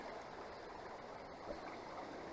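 Creek water flowing steadily over rocks at a gold-prospecting spot, a soft continuous babble with no breaks, close and faint.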